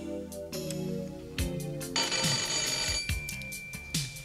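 An old telephone rings repeatedly in bursts over musical backing on a comedy album track, fairly close and moderately loud, with no talk during the rings.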